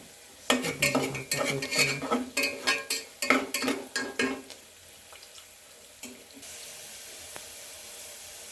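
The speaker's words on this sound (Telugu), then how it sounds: "కాస్త కర్రీ లీఫ్ వేసి దూరంగా వేయించుతున్నానండి" Curry leaves and cashews frying in a pan, heard as a quick run of rhythmic clattering stirs and scrapes for several seconds before settling into a quieter low sizzle, close by and without speech.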